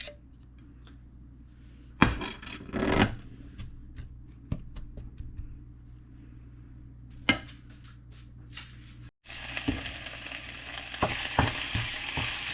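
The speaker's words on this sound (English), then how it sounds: "You want to add your ginger in first, because garlic will burn, so you want to sweat out your ginger" Ginger sautéing in hot oil in a pan over medium-high heat, soft sizzle with sharp scraping stirs and utensil knocks, then a loud burst of sizzle near the end.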